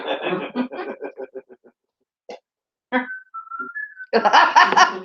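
A person whistles a short wavering tune at a roadside coffee morning, after a stretch of laughter and chatter, with more lively talk and laughter following.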